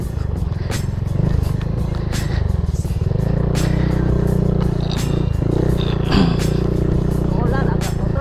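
Motorcycle engine running steadily near a gathering in Pagadian City, a constant low rumble with clattering, scraping and lively crowd chatter over it throughout.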